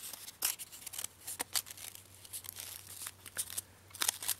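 Paper being folded by hand into an origami Pi symbol, a run of crisp crinkling and creasing bursts, close and fairly loud, with short rustles spread unevenly over a steady low hum.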